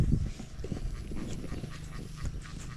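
Domestic ducks being herded home quack in short nasal bursts, several overlapping at close range amid outdoor rustling.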